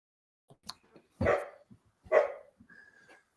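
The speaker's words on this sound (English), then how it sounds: "the dog is freaking out" A dog barks at a delivery at the front door, two loud close barks about a second apart, with a few soft yips and shuffles between them.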